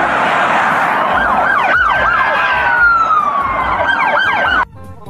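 A loud wailing toy police car siren sweeps up and down continuously, electronic and close, then cuts off abruptly near the end.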